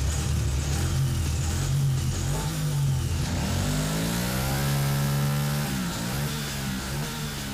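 A KTM 950 Adventure motorcycle with its LC8 1000cc twin engine revs up and down, its tone sweeping upward and falling back in smooth, loud surges heard up close.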